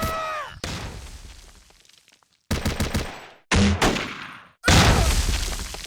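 Loud bursts of gunfire and blasts from the strategy game Close Combat Modern Tactics come in several separate volleys, each a sharp crackling barrage that decays before the next salvo hits.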